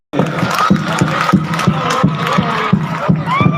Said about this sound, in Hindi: जोरदार तालियों से इस्तकबाल।